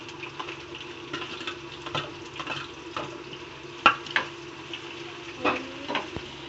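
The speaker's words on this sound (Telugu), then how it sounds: "అల్లం వెల్లుల్లి బాగా ఫ్రై చేసుకోవాలి. రెండు బాగా ఫ్రై అయ్యాక ఆనియన్స్ వేసుకోవాలి." Onions fried with ginger and garlic in a pan for palak paneer, a soft steady sizzle broken by scattered clicks and sharp taps of a spoon stirring against the pan.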